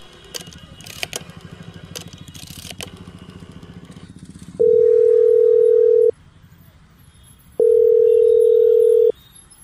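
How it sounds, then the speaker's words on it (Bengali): Telephone dial tone from a chemist shop's phone on a street corner, two long steady beeps after a stretch of clattering and faint speech, loud and clear against the quieter background. "রাস্তার মোড়ে রিপাবলিক কেমিস্ট থেকে অভিজিতের বাড়িতে ফোন করলাম।"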